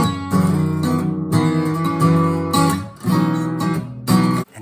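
An instrument recorded with natural room reverb, a short phrase of sustained pitched notes with a lingering, roomy tail between strikes, moderately loud and alone.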